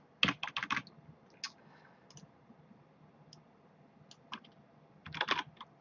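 Computer keyboard typing comes in short bursts of quick clicks, separated by scattered single keystrokes and pauses, close and fairly quiet with no talking.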